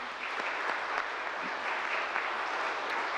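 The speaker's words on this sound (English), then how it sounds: "Let's give them a round of applause here." Steady applause from an audience at a mental health panel event, a continuous even wash of many clapping hands heard from a moderate distance, fairly soft overall.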